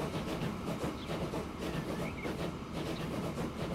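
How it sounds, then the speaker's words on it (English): Trains in the Transport Fever 2 railway simulation game roll by with a steady, continuous rumble and rhythmic clatter of wheels on track, alone with no speech. "Oh, here comes one of the tool trains."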